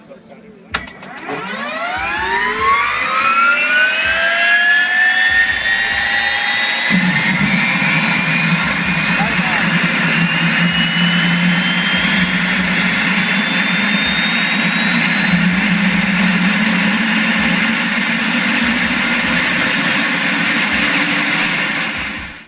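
A Rolls-Royce Allison 250 C20 gas turbine powering a superbike spools up with a rising jet whine, then roars in a loud steady turbine howl that climbs in pitch over twenty seconds before fading.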